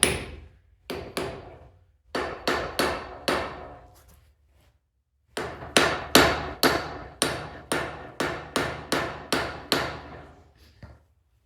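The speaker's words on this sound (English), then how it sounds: "just use a hammer and donk it in there" Sharp metallic hammer blows ring out in quick bursts as a bearing is driven into a trailer wheel hub, a few strikes, a pause, then a longer steady run of evenly spaced hits.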